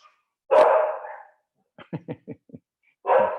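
A dog gives one loud bark, then a quick run of about six short yips, then another full bark, each close and clear against silence.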